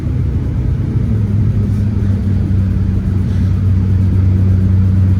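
Deep, steady engine rumble from a Velocity Yellow Corvette Z06 coupe with 385 horsepower, held low and even at close range without clear sharp revs.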